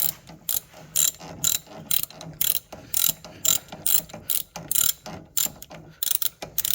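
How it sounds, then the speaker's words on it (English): A ratchet wrench tightens the two 12mm caliper bolts on an ATV during a CV axle boot job, giving steady, close, sharp clicking bursts in an even rhythm with no talking. "Now we're going to get our two 12mm bolts into the"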